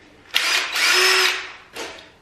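An impact driver opening the wooden crate of a Laguna Fusion 2 table saw whirs loudly in two short bursts close by, with no talk.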